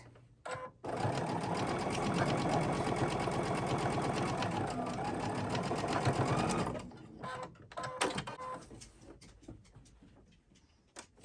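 Sewing machine stitching a quilted table runner, a fast continuous mechanical whir for several seconds, then stopping, followed by scattered clicks and handling noises close by.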